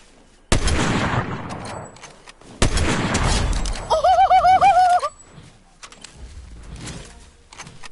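Video game sniper fire and gunfire: two sharp, loud shots a couple of seconds apart, each trailing off, with a warbling electronic tone between them.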